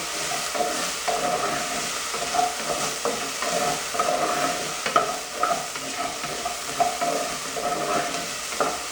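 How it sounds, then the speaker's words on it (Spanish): Morocho soup with pork is stirred in a pot: a steady sizzling hiss with repeated scraping, rustling strokes, close and moderately loud, with no talking. "voy a seguir dando vuelta para que no se vaya a quemar"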